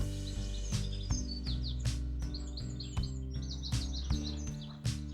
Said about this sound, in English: Bird song everywhere, a dozen species in these bushes.